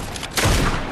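A loud gunshot burst in a video game erupts partway through, booming briefly and then trailing into a sustained rumble; no talking is heard.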